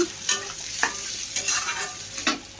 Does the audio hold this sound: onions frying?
yes